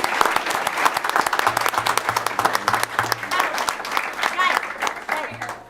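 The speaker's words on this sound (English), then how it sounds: "Round of applause here." Applause at a school board meeting, a room full of people clapping steadily and loudly, with some voices and a low hum underneath throughout.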